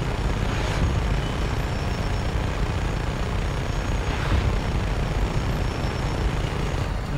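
A helicopter in the Just Cause video game, a loud, steady, rumbling rotor roar that holds at an even level throughout, with no voices over it.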